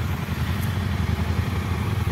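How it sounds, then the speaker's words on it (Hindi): Motorcycle engine idling steadily as it warms up on a Ladakh trip, a loud, continuous low rumble with a slight rhythmic throb and no talking. "बाइक हमारी वार्म अप हो रही है"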